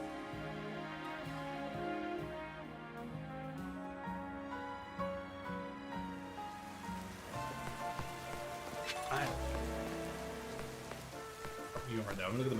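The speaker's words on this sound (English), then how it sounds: "It's raining." Rain falls in a Pokemon video game, a steady soft hiss that grows more prominent partway through, layered under ongoing in-game music.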